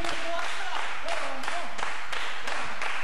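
A wrestling crowd at a live show cheering and clapping, a loud, dense wall of noise with rhythmic surges, while a commentator talks over it.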